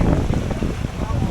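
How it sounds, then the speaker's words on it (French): Strong gusting wind buffets the microphone outdoors at a night-time park festival as a thunderstorm arrives, loud roaring rumble with a faint voice underneath. "Wow, le vent."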